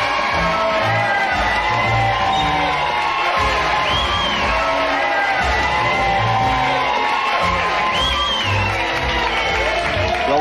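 A crowd at Splash Mountain in Disneyland cheers, whoops and shouts continuously, loud and close, with scattered excited yells rising above the mass of voices throughout.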